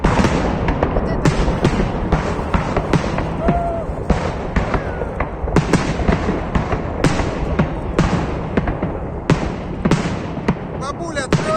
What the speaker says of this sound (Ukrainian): Представляешь, сколько стоит такой салют?